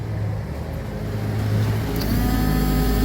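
A motorcycle's electric starter motor spins steadily on a test bench, a continuous loud mechanical whir with a low hum that builds slightly in the final second, with no talk over it.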